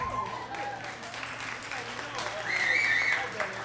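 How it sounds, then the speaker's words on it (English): Audience clapping at a comedy set, a steady wash of applause that swells toward the end, with a voice speaking over part of it. "Parents clapping."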